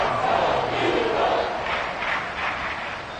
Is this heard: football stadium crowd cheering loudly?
yes